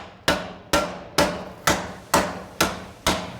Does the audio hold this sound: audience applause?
no